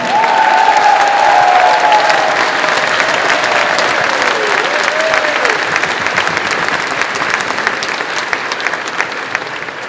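An audience at the 2024 Longhorn Racing car unveiling gives sustained, loud applause with some cheering for the team members, continuous clapping that eases slightly over time.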